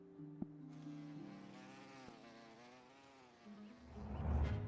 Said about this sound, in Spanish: You just see a bee feeding on nectar.